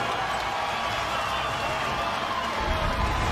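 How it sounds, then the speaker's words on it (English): Crowd noise at a women's college basketball game, a steady roar of cheering from the arena stands after a buzzer-beating basket, heard at a distance with no clear individual voices. "You could hear them cheering him on"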